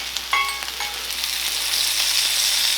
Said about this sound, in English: I'm going to take these 2 pieces of chicken and stick them on here.